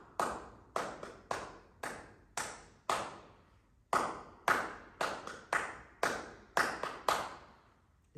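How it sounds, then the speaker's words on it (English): A four-bar rhythm pattern for a drum exam, tapped as a run of sharp, close, ringing hits in an uneven rhythm with short gaps between groups, clear and alone. "the examiner will play a 4-bar pattern and the student will try to copy that pattern or imitate it and tap it back"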